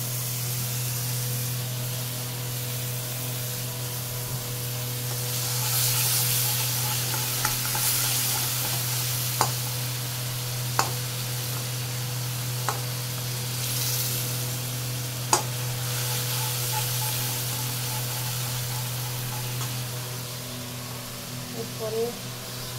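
Onion paste sizzles and fries in a pan, a steady hiss with a few sharp clicks and scrapes, a low hum running underneath the whole time.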